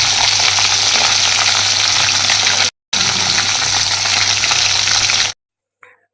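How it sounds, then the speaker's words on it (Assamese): Small fish fry in oil with a loud, close, crackling sizzle that holds steady, breaks off briefly, resumes, and then cuts to silence near the end. "মাছ ভাজি আধা হৈছে"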